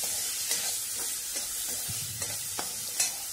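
Chopped tomato is stirred into a frying cauliflower mixture, giving a constant close sizzle broken by several distinct scraping strokes of a spoon against the pan.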